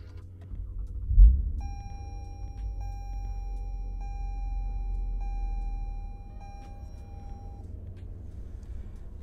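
A 2020 Toyota Avalon TRD engine fires up at the push of a start button: a short cranking burst settles into a low, steady idle rumble, while a sustained electronic chime tone sounds over it.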